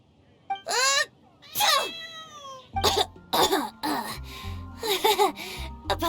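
A video game character coughs from a cat allergy, with several sharp close coughs and gasps alongside cat meows, alone without other talk.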